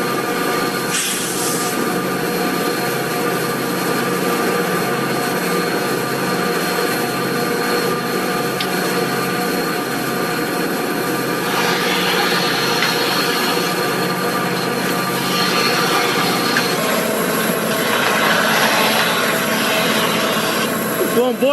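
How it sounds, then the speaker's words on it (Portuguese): Several heavy diesel locomotives, at the front and rear of a train, accelerate on a steep grade while the train barely moves; engines roar and labor continuously, with rising bursts of noise and a metallic rattle, loud and close. "As 3 locomotivas que estão atrás acelerando no último."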